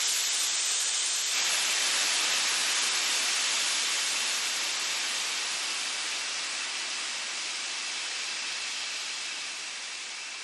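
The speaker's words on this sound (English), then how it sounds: "Boiling water produces steam." Steam hissing from boiling water in a power station animation, a steady broad loud hiss that holds evenly throughout and slowly tapers toward the end, with no voices.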